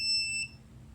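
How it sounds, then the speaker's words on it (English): A high, piercing electronic alarm buzzer from an ESP8266 water detector sounds steadily for about half a second when its sensor is wet, then cuts off, leaving faint background hum. "the buzzer will continue going off indefinitely until the water sensor is removed from the water"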